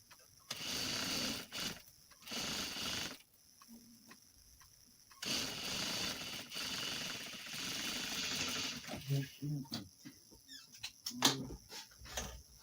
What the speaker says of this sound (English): So I'm sewing the back seam together.